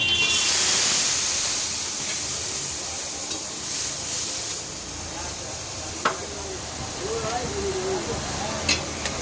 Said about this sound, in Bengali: এবার এই টমেটো বাটাটাও দিয়ে দিলাম।